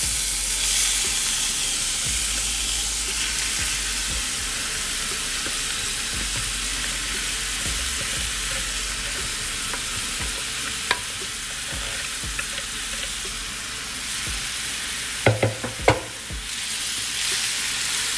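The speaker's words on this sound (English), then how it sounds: "So I'm caramelizing these slow. That's why I have them on such low heat." Diced onions slowly caramelize in olive oil over low heat, a continuous soft sizzle with occasional stirring clinks and a few sharper taps near the end, no talking.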